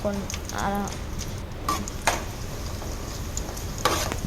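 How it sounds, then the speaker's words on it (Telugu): Cumin seeds sizzle in hot oil in a pan for village-style mutton curry, a steady crackling fry with a few sharp ticks and light stirring knocks, while a person's voice briefly sounds at the start. "ప్యాన్ పెట్టుకొని ఆయిల్ వేసుకొని టేస్ట్ కోసం కొంచెం జీరా వేసాను."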